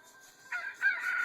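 A rooster crows in two short bursts, thin and somewhat distant, with a faint steady tone underneath.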